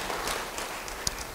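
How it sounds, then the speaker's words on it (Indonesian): A church congregation gives a brief, soft round of applause during a sermon, a faint, steady patter of hands that sounds somewhat distant. "Yang ingin beri tepuk tangan yang baik buat dia."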